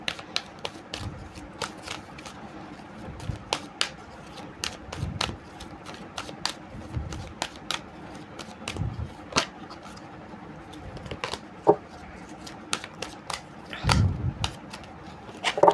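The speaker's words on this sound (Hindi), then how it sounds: "चलो पहले कुछ एनर्जीज कार्ड निकालते हैं" Oracle energy cards are shuffled and drawn by hand, giving a string of sharp flicking snaps and riffles at an uneven pace with soft rustling between them, close and fairly quiet, with no talking.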